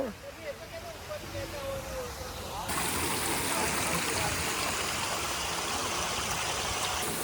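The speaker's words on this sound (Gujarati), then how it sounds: "આ ગાર્ડનની અંદર તમે આ ઝરણું જોઈ શકો છો. ખરેખર સુંદર ઝરણું બનાવેલું છે અહીંયા." An artificial stream flows through a Japanese garden at Ramoji Film City in Hyderabad, a steady close splashing that swells louder partway through, with faint bird chirps early on.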